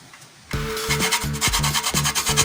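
Coconut flesh from a cracked nut is grated in quick rhythmic strokes, each a rough rasping rub repeating about twice a second after a brief quiet start, close and loud with no talk.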